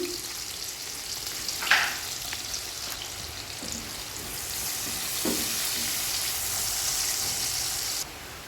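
A cup of onions frying in oil for a chicken and papaya curry, a steady close sizzle with a few stirring scrapes and clatters.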